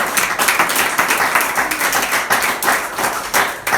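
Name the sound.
church congregation clapping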